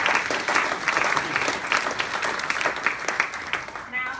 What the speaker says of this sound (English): So let's just give them a huge round of applause.